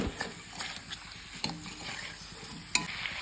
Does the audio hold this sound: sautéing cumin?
yes